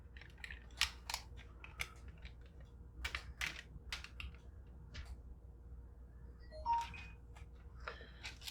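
Protective plastic film being peeled off a graphics card, giving quiet, close crackling and crinkling ticks in short scattered bursts against a near-silent room.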